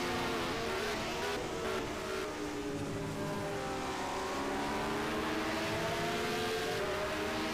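Several 1974 Formula 1 cars in a sim race climbing a hill, engines droning and revving together in a dense, continuous roar with layered rising pitches, no break throughout.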